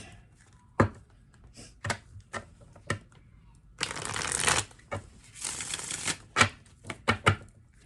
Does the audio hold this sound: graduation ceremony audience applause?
no